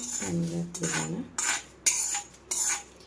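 Curry leaves roast in a pan, giving close, bright, crackly rustling bursts in several separate strokes, along with a metallic scraping and a short low tone as the leaves are stirred.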